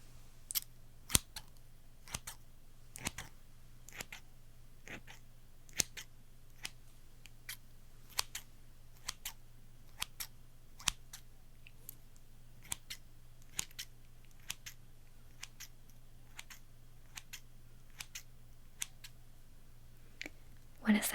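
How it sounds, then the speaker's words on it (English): Metal scissors snapping open and shut in a slow, steady series of about thirty crisp clicks, close and quiet over a low hum, with no talking between cuts. "Scissors."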